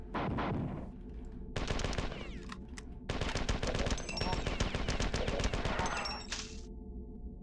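Weapon fire in the first-person shooter Marathon Durandal, with loud bursts of rapid shots in several clusters separated by brief pauses, alone without talk.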